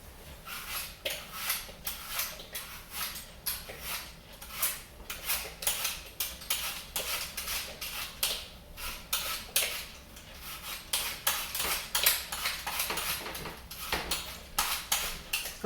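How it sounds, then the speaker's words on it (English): Apples being peeled for a Christmas crumble with honey, a steady run of soft scraping and rasping knife strokes, close and fairly quiet, with no talk. "So I'm going to get peeling these apples"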